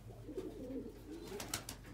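Black pigeons coo close by, with soft, low, rolling calls and a few brighter chirps near the end. No one speaks.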